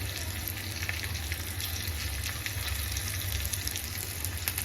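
A tadka of asafoetida and a pinch of turmeric sizzles in hot oil, a steady close hiss that holds even throughout without talk.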